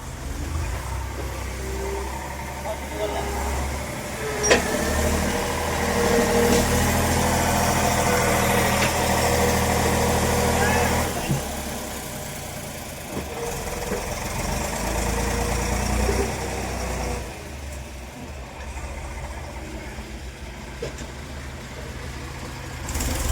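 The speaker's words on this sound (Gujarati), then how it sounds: "વરસાદને લીધે ટ્રેક્ટર પણ નથી હેરખું હાલતું" A tractor on a rain-soaked, rutted mud road runs a steady, heavy engine drone with rough, knocking vibration, surging and easing slightly throughout, alone with no voices.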